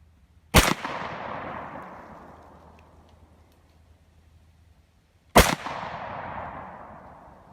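Two loud gunshots from a Ruger Mini-30 rifle loaded with steel-case ammunition, fired outdoors several seconds apart, each sharp crack trailing off in a long rolling echo.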